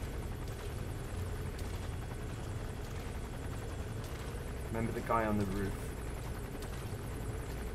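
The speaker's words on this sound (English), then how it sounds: "Right, that helicopter is making me nervous." A helicopter from the video game Metal Gear Solid V drones steadily at low level in the background, a faint continuous rotor hum under a man's brief speech.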